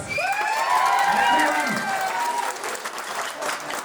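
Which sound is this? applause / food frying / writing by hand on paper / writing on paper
applause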